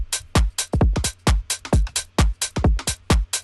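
Full UK garage drum bus for a hard, bouncy beat, punchy kicks, snares and hats layered in a swung, skippy groove, loud and upfront with a low bass drone underneath and no talking.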